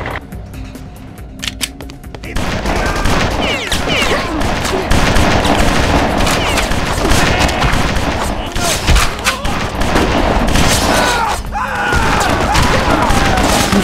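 Rapid gunfire in the BloodRayne video game, dense sustained bursts of loud cracks and booms after a quieter opening, with game voices talking over the shooting.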